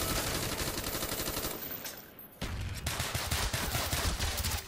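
Loud sustained automatic gunfire in the video game Black Ops 1, rapid repeated shots that pause briefly midway and then resume, with no talk.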